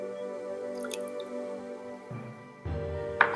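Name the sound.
Orbeez dropped into a bowl of hot water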